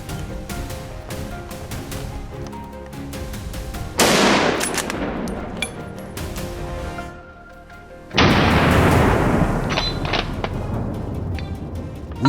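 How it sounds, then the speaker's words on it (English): Gunshots are fired at wild boar charging out of a pine forest on farmland. Two loud, close bursts of rapid shots crack out, the first around the middle of the clip and the second a few seconds later, over a constant background rumble. "A series of precise, decisive shots rang out."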